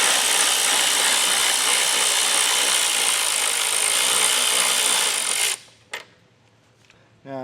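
Loud, steady power-tool whir removing a 10mm bolt on a 2023 Jeep Grand Cherokee during base plate installation, running continuously for about five seconds, then stopping abruptly with a couple of brief clicks and knocks.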